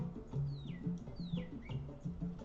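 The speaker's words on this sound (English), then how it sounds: "I don't know if you can hear the birds." Birds chirp outside an open window, repeated short rising-and-falling tweets, fairly close, over a low humming background.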